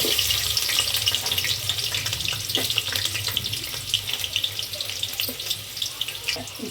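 Finely chopped onion fries in hot oil in a home kitchen, giving a dense, steady sizzle with scattered crackles and pops that runs the whole time without letting up.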